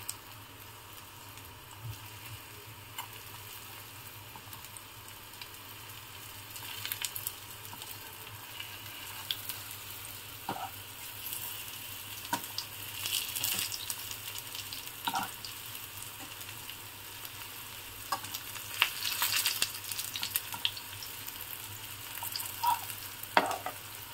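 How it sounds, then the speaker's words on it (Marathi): Jackfruit cutlets fry in a pan with a steady, faint sizzle and crackle, while occasional soft scrapes and turning sounds rise above it. "एक एक आपण आता हे परतून घेऊया।"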